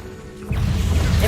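A Confringo spell blast in Hogwarts Legacy erupts as a sudden explosive burst midway through, followed by a dense rumbling crackle that persists to the end.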